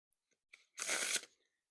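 A deck of Bloc 420 playing cards spread into a wide fan, heard as one quick, close papery swipe lasting under half a second, preceded by a few faint soft taps in an otherwise quiet room.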